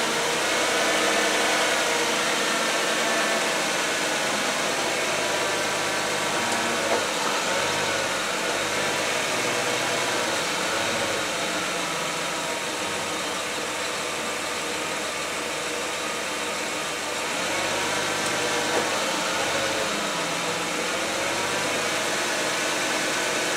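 A car engine with an automatic transmission (AOD, AXOD or AX4) runs steadily after a fluid refill, a constant broadband hum and hiss, close and unbroken, with no voices.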